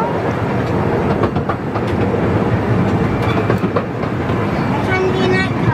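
A miniature light railway train running through a park, heard close and steady, with a continuous rumble and rhythmic clicking of wheels over rail joints. Voices chat in the background.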